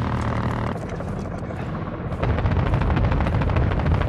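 Helicopter attack in Call of Duty Modern Warfare II, a steady thudding rotor roar mixed with rapid gunfire bursts that grows louder about halfway through.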